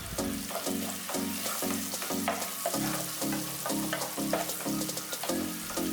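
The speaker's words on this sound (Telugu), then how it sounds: "చిన్నగా కట్ చేసుకున్న ఆనియన్స్ వేసి లైట్ బ్రౌన్ కలర్ అయ్యే వరకు వెయిట్ చేయాలి" Chopped onions fry with turmeric in a pan for an eggplant masala curry, giving a steady close sizzle broken by regular stirring strokes over a repeating low tonal pattern, with no talking.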